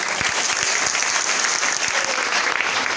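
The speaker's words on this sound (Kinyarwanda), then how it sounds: "Reka dukomere Imana amashyi." A church congregation claps together, a loud, dense, continuous round of applause filling the room from start to finish.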